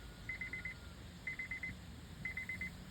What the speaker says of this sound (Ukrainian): Ключі пищать.